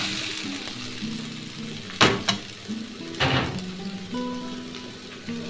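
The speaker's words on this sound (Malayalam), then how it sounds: "ഉള്ളിയും മുളകൊക്കെ നന്നായിട്ട് ഇതേപോലെ ചോത്ത കളറായിട്ട് വെക്കണം ഇനി നമുക്ക് നമ്മൾ കൂർക്ക തുടക്കാം" Onions and chillies fry in a pan with Chinese potatoes, a steady close sizzle with a few louder bursts of spitting and stirring clatter, no talking.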